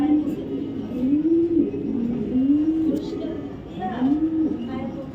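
Racing pigeons from a 2022 BRPL race coo in soft, repeated rolling calls close by, while someone talks over them.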